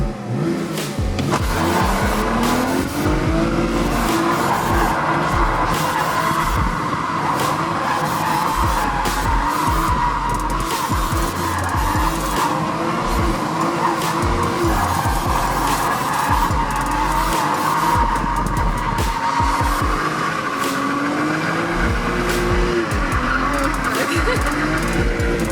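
A BMW E90 drifting sideways, its tires squealing and skidding loudly and without pause over a revving engine for the whole run, close by.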